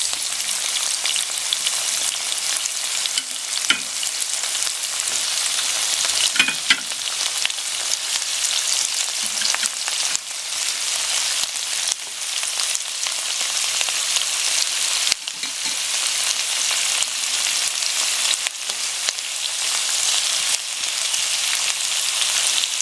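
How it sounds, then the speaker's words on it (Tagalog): Shrimp cook with onion in a hot pan, giving a continuous, loud, close sizzle like steady rain that barely changes, with no one talking. "medyo lutuin lang natin ng konti yung shrimp"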